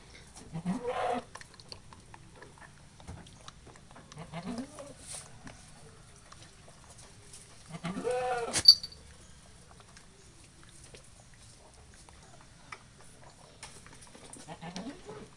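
Young goats on a farm bleat in a few separate calls spaced across a quiet stretch, one louder cry near the middle, with faint movement and background noise between them.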